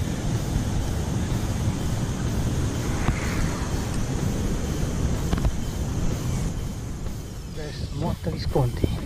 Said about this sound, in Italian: Quello che sentite è il rumore dell'acqua che scende nella conca di Coronate